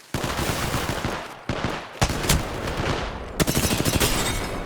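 Loud, dense automatic gunfire from the Apex Legends battle royale game rattles in sustained bursts with brief gaps and sharp individual shots, close and overwhelming.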